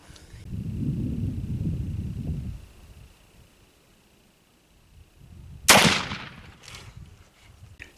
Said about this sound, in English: I'm going to take my 3rd shot, and hopefully this shot won't embarrass me